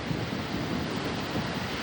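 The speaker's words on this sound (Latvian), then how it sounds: "Šobrīd pūš offshore vējš." Offshore wind blowing at a beach in Tarifa, a constant loud roar of gusting air buffeting the microphone with no pauses.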